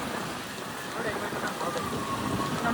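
Rain falling during a rainy outing, a faint, steady hiss of drops on surfaces that swells slightly toward the end.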